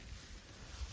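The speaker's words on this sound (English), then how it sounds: "apologize for the wind, but I like the wind today." Brief burst of wind buffeting a microphone in a dry pasture, low rumbling gusts with a broad hiss, loud and close, no voices.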